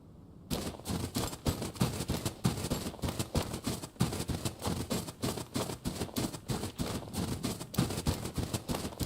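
Sustained rapid gunfire in the Road to Vostok video game, a dense stream of shots that runs steadily for about nine seconds. The shots are loud and close, with no pause between bursts and no talk over them.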